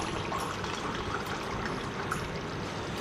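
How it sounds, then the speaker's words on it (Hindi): Water splashes into a pot of mutton karahi as half a glass is poured in, a steady close rushing hiss throughout with faint sizzling underneath. "थोड़ा सा आधा ग्लास पानी डाल के"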